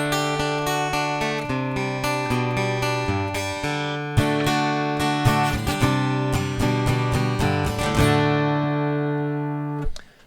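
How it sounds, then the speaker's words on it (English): An acoustic electric guitar recorded straight in with no effects rings out strummed chords and picked notes, bright and close, with steady sustained strings and sharper attacks near the end before a final ringing chord fades. "So that's the sound of an acoustic electric guitar."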